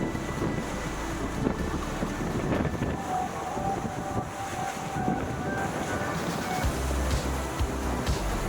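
Strong wind roars across an XP38 sailboat under sail with an orange gennaker, a constant buffeting rush mixed with water wash against the hull, loud and unbroken throughout.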